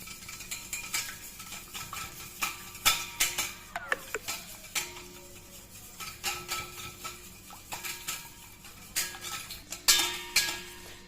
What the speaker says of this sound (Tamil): இப்போது இந்த 2 முட்டையை நல்லா இந்த விஸ்க் வச்சு நல்லா பீட் பண்ணிக்கலாம்